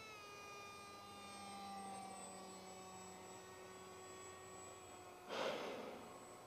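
An RC F18 plane with a Turnigy 2826/6 2200 Kv motor flies at about 40% throttle, giving a steady high electric whine with bright harmonic tones that slowly shift in pitch, then a brief whooshing swell as it passes close.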